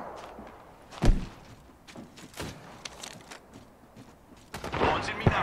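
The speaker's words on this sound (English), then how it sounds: "They're shooting at me." Gunfire rings out in a video game match as scattered sharp shots and thumps at moderate volume, with a denser burst near the end and no talking.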